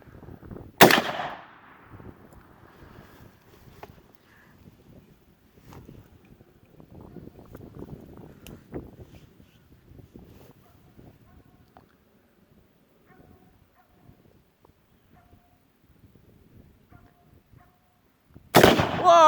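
Tannerite packed inside a pumpkin detonates with a single loud, sharp blast near the start, followed by quieter outdoor rustling and a little speech, then a second loud burst at the very end.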